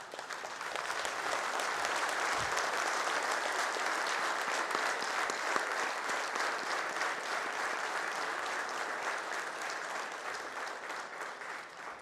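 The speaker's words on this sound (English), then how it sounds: "give a thunderous and rousing applause as an expression of our gratitude and appreciation to the Dhan family" A large audience at a company's golden jubilee celebration applauds steadily and loudly, a dense wash of clapping that holds for the whole span with no voices on top.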